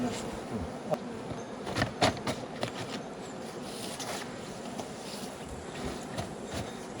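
Honey bees buzz steadily at an apiary during colony feeding work, a dense close hum with scattered louder passes of individual bees near the ear.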